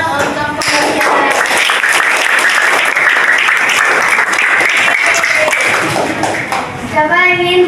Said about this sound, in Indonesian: Oke, tepuk tangan untuk kalian.